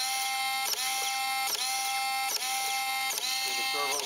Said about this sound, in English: See the servo feeding the fuel tubing